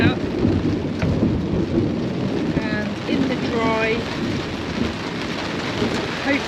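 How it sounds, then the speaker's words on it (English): Thunder rumbles low and steady through continuous rain around a rooftop tent on a Land Rover Defender during a thunderstorm in Spain, with a few faint bird chirps over the broad wash of rain. "There's the thunder."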